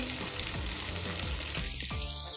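Chopped carrot and capsicum sautéing in a pan, a dense continuous sizzle with a few light stirring strokes, close and steady throughout.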